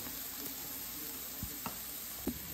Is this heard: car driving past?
no